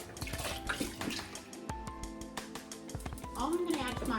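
Water from a box poured into a pot over meat for gumbo, a steady close splashing and gurgling stream running throughout under a voice talking.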